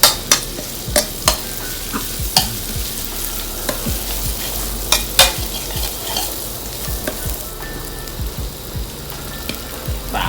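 Pounded chili stir-fries in hot oil over a gas flame in a rustic outdoor setting, giving a continuous sizzle punctuated by repeated sharp clanks and scrapes of the utensil against the pan.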